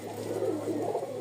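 Pigeons coo in a soft, continuous rolling murmur, close and steady with no talk, from a red pair of Rajshahi pigeons kept by a breeder.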